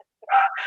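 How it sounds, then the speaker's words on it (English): A dog gives a short bark or two in the background, a brief, mid-pitched burst rising out of near silence. "sorry for the dog in the background"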